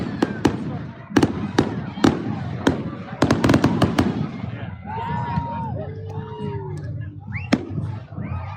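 Fireworks go off in a series of sharp, loud bangs and crackles, followed by whistling, rising streaks and more scattered pops, with some crowd noise underneath.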